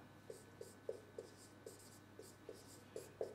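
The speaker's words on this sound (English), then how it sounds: "Let's write that down." Pen writing a note, a quiet series of about ten short separate scratches and taps spaced unevenly, close and faint in a hushed room with no speech.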